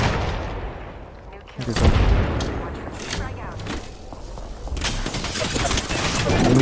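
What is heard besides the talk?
gunfire in the video game Apex Legends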